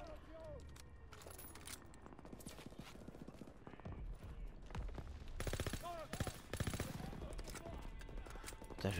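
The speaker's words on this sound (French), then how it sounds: "une mitraillette." Submachine gun fire in the World War II shooter Call of Duty WW2, rapid bursts crackling over constant battle noise, with someone talking over it.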